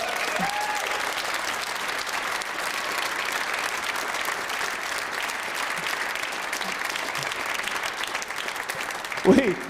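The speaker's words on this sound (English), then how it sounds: "round of applause for Olivia." Sustained applause from the audience at a professional squash final, a continuous dense wash of clapping that swells briefly near the end.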